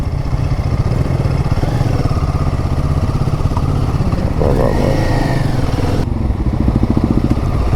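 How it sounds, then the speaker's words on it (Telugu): Busy traffic on a narrow hill road near Munnar, Kerala, with motorcycles and other vehicles rumbling and buzzing past close by in a continuous loud stream. "కాకపోతే ఫుల్ ట్రాఫిక్ ఉన్నది, బండ్లు పోతలు, చిన్న రోడ్ ఉన్నట్టున్నది"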